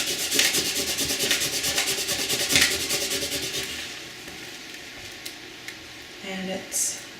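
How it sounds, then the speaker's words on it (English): Vinyl stencil being rubbed firmly down onto a glass casserole dish, a steady scratchy rasping that runs in quick repeated strokes for several seconds, then stops and leaves quieter handling noises. "I've got a piece right here that didn't stick, so I'm going to lay it back down and just give it some more rub."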